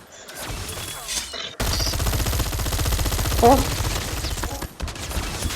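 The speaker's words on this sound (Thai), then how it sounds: "มีคนยิงระเบิดใส่พี่" Gunfire and an explosive grenade launcher shot in the Call of Duty Mobile video game, loud dense rapid shooting with a burst partway through, ending in quieter shots.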